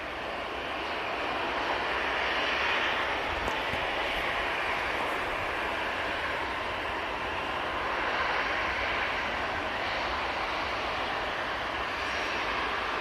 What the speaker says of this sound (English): A320 about to land, coming in from Lisbon